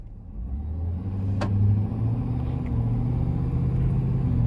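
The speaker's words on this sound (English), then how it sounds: "still a powerful truck, capable truck, and when you do need it to put in some work" A 2025 Ford F-250 XLT Premium pickup with the 6.7 turbo-diesel engine drives along, its steady low engine rumble and road drone heard from inside the cab, with one brief sharp click partway through.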